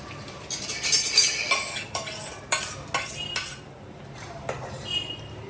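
Peas being stirred into cooked onion, tomato and capsicum in a pan, a series of close spoon clatters and scrapes against the metal with a faint sizzle underneath.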